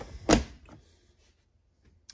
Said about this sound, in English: you close that door, and then your thermostat will just click right over it